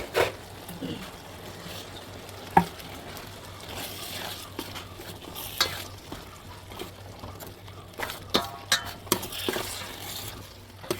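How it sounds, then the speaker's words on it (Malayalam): Ginger garlic paste stirred into biryani masala in a pan: steady scraping and gentle sizzling, broken by clinks of a metal spoon against the vessel, with a voice speaking now and then in the background. "ഇനി അതും ഇട്ട് നല്ലപോലെ ഒന്ന് മിക്സ് ചെയ്ത് കൊടുക്കണം"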